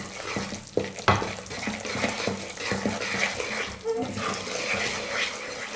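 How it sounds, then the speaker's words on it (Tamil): Gram flour sautéing in ghee in a pan for Tamil halwa, a steady sizzling and stirring rattle that runs continuously and fairly loud, with scraping clinks of a spoon against the pan. "நம்ம எந்த அளவுக்கு கடலை மாவை நெய்யோடு சேர்த்து நல்லா குக் பண்ணுறோமோ"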